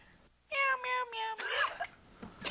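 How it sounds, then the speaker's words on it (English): A cat in a cat food commercial lets out a short run of clear, close meows, two or three quick calls followed by a longer, rising one against a quiet background. "Meow, meow, meow, meow."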